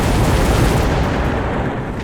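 Dense barrages of missile explosions from the video game Mechabellum roar together as a round begins, a loud, continuous low rumble of overlapping blasts and booms with no pause and no talk.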